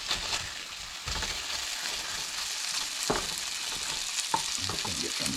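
Chopped pork sausage sizzles steadily as it browns in a pan, a continuous crackling fry with a few sharper pops and stirring scrapes, fairly close and with no voices.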